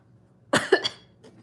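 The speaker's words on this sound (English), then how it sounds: "And I'm sorry I'm coughing," A woman coughs in a short cluster of three harsh bursts, close to the microphone and fairly loud, with a faint trailing sound after, in a room otherwise quiet apart from low background hum.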